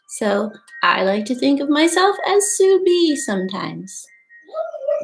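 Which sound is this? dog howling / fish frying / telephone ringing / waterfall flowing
dog howling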